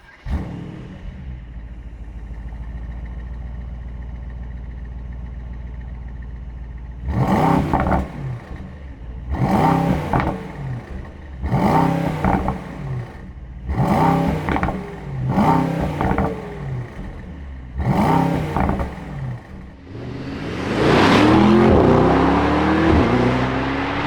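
Mercedes-AMG GT 63 V8 sending out a string of six sharp, loud throttle blips over a steady idle, then rising into a sustained full-throttle roar as it pulls away.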